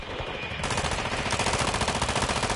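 Continuous rapid machine-gun fire from the multiplayer shooter Call of Duty: Modern Warfare 2, a dense, loud rattle of overlapping shots that intensifies after the first half-second and runs unbroken to the end.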